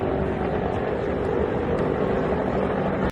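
Military attack helicopters, a Marine Corps Viper and Army Apaches, heard in combat footage as a steady, loud rotor and engine roar with no break.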